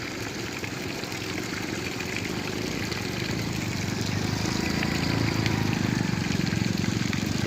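Water pours out of a tank in a steady, loud rushing gush, with a low churning rumble that swells slightly toward the end and runs alone throughout.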